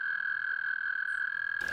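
An American toad gives a long, steady, high musical trill that holds at an even pitch and loudness throughout, close and clear with no talk.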